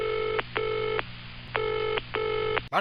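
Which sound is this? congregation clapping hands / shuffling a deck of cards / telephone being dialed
telephone being dialed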